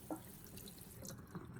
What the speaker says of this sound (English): make sure to rinse the eggplant thoroughly under running water